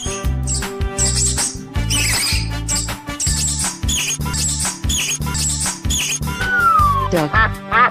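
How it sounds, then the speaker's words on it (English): A mouse in an animal-sounds game squeaks in quick high-pitched bursts, clear and close, repeating over a steady thumping backing beat. "Mouse."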